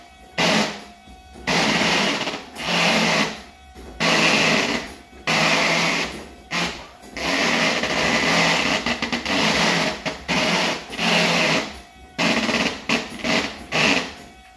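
A Volvo electric power steering motor, fitted as a low-cost swap, whirs and whines in repeated bursts of a few seconds each as the wheel turns back and forth. The sound is loud, close and mechanical, with brief pauses between bursts.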